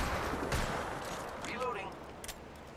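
Gunfire from a video game shooter, several loud bursts and cracks packed into a couple of seconds over a busy game mix, with a voice talking alongside.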